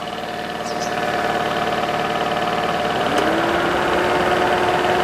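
A 2005 Toyota Corolla with a 1.8 engine idles steadily and close by after an oil pan gasket reseal, a continuous even hum with faint small ticks and no talking.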